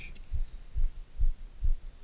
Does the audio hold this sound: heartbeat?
yes